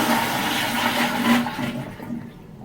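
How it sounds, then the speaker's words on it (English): A repaired American Standard Eco-Flush pressure-assisted toilet flushing, a loud close forceful rushing whoosh of water that fades away into a quieter trickle. "Let's give it a flush."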